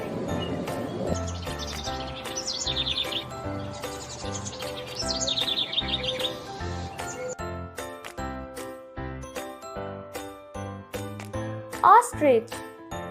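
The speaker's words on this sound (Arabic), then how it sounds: "hummingbird," A hummingbird gives bursts of thin, high chirps and twitters in two short runs, fairly faint over soft background music.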